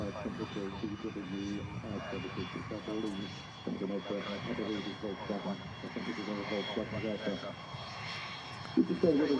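At Manchester Airport, a distant aircraft engine rumbles steadily at low level under continuous close conversation between several people.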